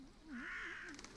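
Crows in the TOEM adventure game caw in a short harsh burst, a single drawn-out call close by, fairly faint against a quiet background.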